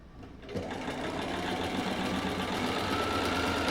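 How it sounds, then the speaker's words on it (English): A sewing machine stitching quilting fabric pieces starts up after a brief pause and runs at a steady, fast, even whir, close and alone. "So I'm going to stick this under there and sew it up."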